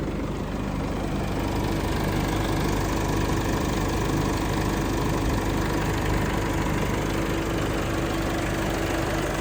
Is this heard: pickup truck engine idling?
yes